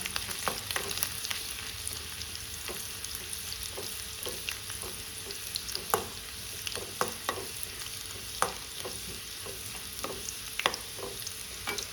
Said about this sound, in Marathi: लसूण चांगलं लाल होईपर्यंत परतून घ्यावा